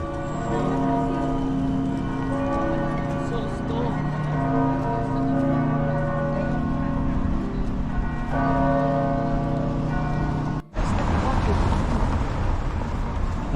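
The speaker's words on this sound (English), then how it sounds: "it's the longest bell toll I've ever heard" A church bell in Helsinki, Finland tolls on and on with rich, ringing overtones, loud and sustained, over a busy outdoor city background with traffic, cutting off abruptly near the end.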